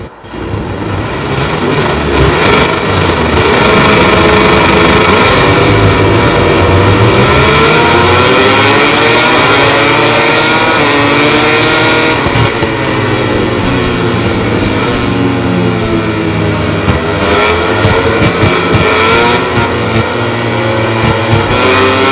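MotoGP bikes, including Alex Marquez's LCR Honda RC213V, rev hard on the grid before the Portuguese Grand Prix start at Algarve International Circuit, a loud, dense roar of engines with rising and falling revs throughout.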